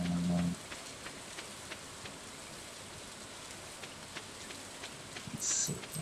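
Steady soft rain hiss falls in the Stardew Valley video game, faint and continuous throughout, with a brief brighter blip near the start and another near the end.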